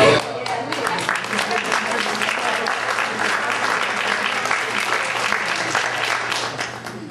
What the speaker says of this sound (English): we all should applaud